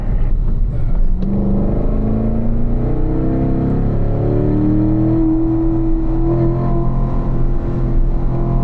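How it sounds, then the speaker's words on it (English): A race car engine pulls hard under pressed throttle on a track, a loud, close drone whose pitch climbs steadily through the gears with brief shifts, continuous and without talk. "press down the throttle pedal. Let the car move wide."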